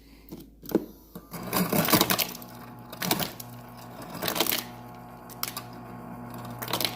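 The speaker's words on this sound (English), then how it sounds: "We'll switch this over to cubed ice." Ice cubes come out of the door dispenser of a Kenmore Elite French door refrigerator with a bottom freezer. Bursts of mechanical whirring and rattling clatter of cubes into a container sound close and loud, with pauses between them.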